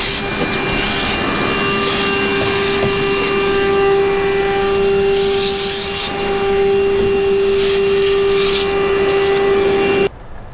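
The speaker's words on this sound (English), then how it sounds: "All the urethane that fell in there, you want to vacuum that." A vacuum cleaner sucks up loose urethane debris inside a 2015 BMW M235 during a windshield replacement, a loud, steady close whine with a strong tonal hum that runs unbroken for about ten seconds before cutting off.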